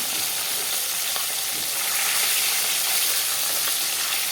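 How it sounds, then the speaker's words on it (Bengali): Hilsa fish heads fry in hot oil, giving a close, steady, dense sizzle that carries on unbroken for the whole stretch, with no voices. "হালকা করে গরম তেলে দিয়ে আমি ভেজে নেব উল্টে পাল্টে আমি ভালো করে হালকা করে ভেজে নেব"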